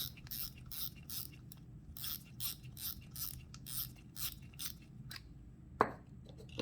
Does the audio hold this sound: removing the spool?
yes